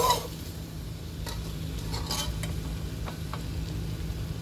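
Zucchini stir-fried with egg in a pan gives a steady, close sizzle, with occasional light scrapes and taps from stirring over it and no talking.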